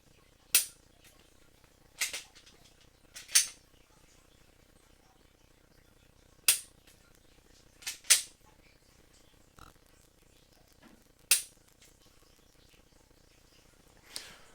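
Dry-fire trigger pulls with a Mantis firearm training system, about seven sharp isolated clicks spaced a second or more apart, close and crisp over a quiet background.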